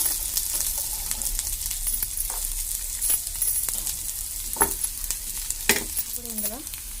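Chopped onions frying in a pan for a carrot and beetroot fry, a steady close sizzle with a few stirring scrapes and clinks.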